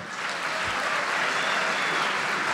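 An audience applauds a trio playing Andean music on charango, guitar, percussion and flute, sustained dense clapping from a full hall that swells slightly and carries on evenly without voices.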